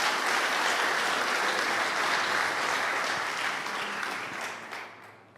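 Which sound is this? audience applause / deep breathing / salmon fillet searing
audience applause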